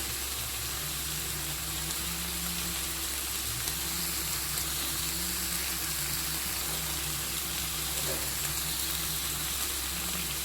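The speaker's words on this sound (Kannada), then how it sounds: "ಸ್ವಲ್ಪ ಹೊತ್ತು ಫ್ರೈ ಆಗಲಿ." Prawns masala fry in a pan, giving a steady, even sizzle with a low hum under it. The sound stays moderately quiet and unchanging the whole time, with no talking.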